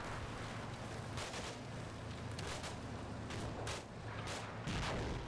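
An infantry trooper fires a LAW rocket at an approaching BMP in the Cold War wargame Combat Mission, with several sharp booming blasts and shots spread unevenly over a rumbling battlefield backdrop.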